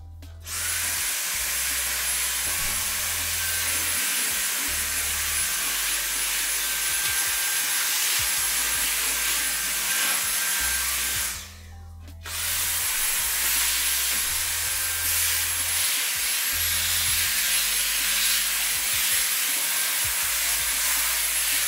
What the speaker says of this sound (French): Déjà, j'avais ramené l'aspirateur, il est où?